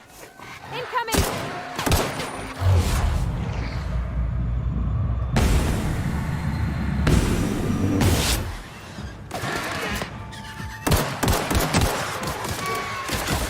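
Gunfire and impacts from The Outer Worlds, a sci-fi shooter game, come in repeated bursts of sharp shots and thuds with short lulls in between, loud and close, with talk underneath.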